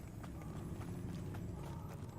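Horses' hooves clip-clop in Hogwarts Legacy, a faint, steady walking rhythm under a low rumbling ambience.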